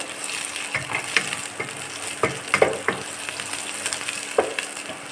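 Ingredients sauté in a pan for drumstick leaf curry, a steady close sizzle broken by sharp scraping clicks of a spoon stirring at irregular intervals.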